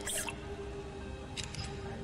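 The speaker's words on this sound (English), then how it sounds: "She pours herself some water from the decanter" Water poured from a decanter into a glass and spilling in a video game, a faint trickle and a few drips, quiet and brief over a low background hum.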